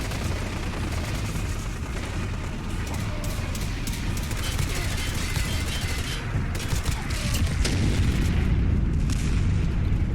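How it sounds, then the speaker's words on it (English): Plasma rifle fired by a super mutant in Fallout 4, a dense run of sharp, loud energy blasts and booms over constant rumbling combat noise, with bursts thickening toward the end. "where are the super mutants with the plasma rifle? He is putting down the fire on that thing"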